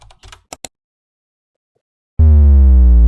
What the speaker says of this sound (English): So simply go to your Chrome browser and type in at the search bar download